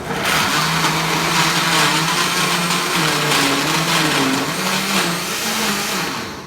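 A blender beating carrot cake batter with eggs and sugar, running loud and steady for several seconds, its motor pitch wavering slightly as the thick mix churns, then winding down.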